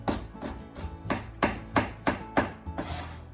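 Sharp knife chopping onion into small pieces on a cutting board, a steady series of crisp, evenly spaced thuds close by, about seven cuts, with no talking.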